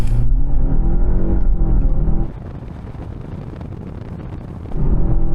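A BMW 520i accelerates hard from a standstill toward 60 mph, its engine roaring loudly and steadily with a brief dip in pitch, as if at a gear change, partway through.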